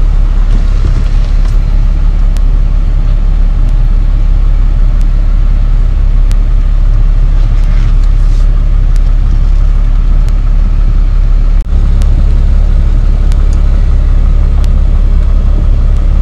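A pickup truck engine idles and rolls slowly along a driveway, giving a steady, close, low rumble that holds evenly throughout with no talking.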